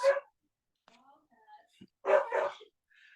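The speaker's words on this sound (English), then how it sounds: "I apologize for my helper's dog." A dog nearby gives short sharp barks at the start and again near the end, with soft whimpering whines in between, fairly faint and heard alone without talk.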